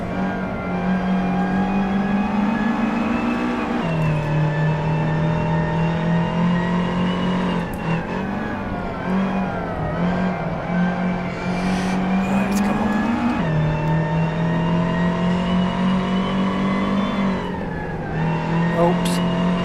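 A race car drifts in the Assetto Corsa video game, its engine revving loudly and steadily, pitch climbing and dropping with each shift and slide, close and continuous.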